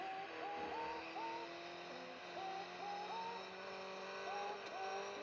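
Race car in the Real Racing 3 video game drifting, engine holding a steady high whine with repeated pitch shifts as gears change, continuous and close throughout.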